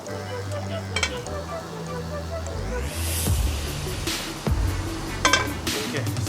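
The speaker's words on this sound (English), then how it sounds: "Okay, so that's where the frying of the eggs is going to take place." Oil sizzles steadily in a pan with a few metallic clinks and scrapes of a utensil, close by, with a low hum underneath.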